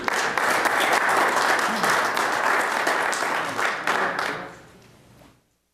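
Applause from the audience at a county board of commissioners regular meeting in Taos County, a steady wash of clapping that holds for about four seconds and then tapers off into silence.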